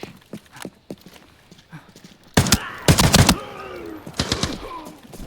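Bursts of AKM rifle fire in the shooter game Arena Breakout Infinite, with scattered single shots first and then loud rapid volleys and echoing tails, all close and without talk.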